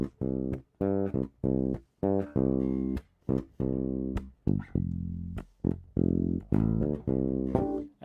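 Using the J pickup, a Squier Jaguar bass plays a riff of short, plucked low notes in an uneven rhythm, some ringing longer, clean and close with no voices.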